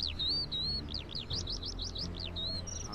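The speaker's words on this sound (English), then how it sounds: "Wow, those birds are really loud." Birds in the video game Wolf Quest chirp loudly and continuously in quick repeated high notes, close and prominent over a low ambient game backdrop.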